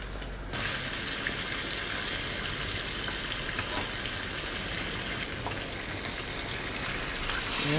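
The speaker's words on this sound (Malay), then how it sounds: "Dan tu kita terus goreng dalam minyak yang panas." Fish fries in hot oil with a steady, loud sizzle that starts suddenly and holds throughout without pause.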